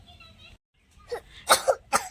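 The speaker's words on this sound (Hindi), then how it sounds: "बहुत खांसी हो रही है" Several short coughs from a young voice, close and clear, coming in quick bursts after a brief pause.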